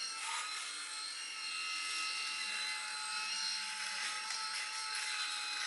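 A Xiaomi rechargeable electric shaver with three rotary heads runs steadily in a continuous, even buzzing hum that stays level throughout, close to the microphone with no talking.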